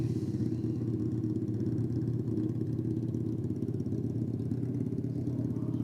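A Kawasaki Z1100 motorcycle runs at a drag strip, its engine holding a steady, loud, mid-pitched drone with a rough clattering edge throughout, no voices over it.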